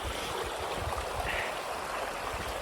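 A mountain stream flows over rocks on a trail up a Scottish Munro, giving a steady, broad rushing wash that is close and continuous, with no voices.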